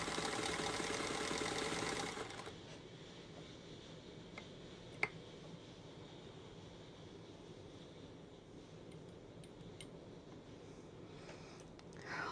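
A Kingston Deluxe sewing machine made by Brother runs a straight stitch with a steady, close whirring drone for about two seconds, then stops, leaving a quiet room with a single faint click.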